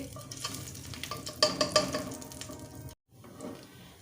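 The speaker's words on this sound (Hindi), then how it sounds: "इसकी सनसनाहट की जो घी में आवाज़ होती है वो आ जाए तो हम इसमें कीमा डाल दें।" Minced meat sizzling and being stirred in hot ghee in a pan while cooking aloo matar qeema, a steady close fry crackle with scraping stirs and a brief pause near the end.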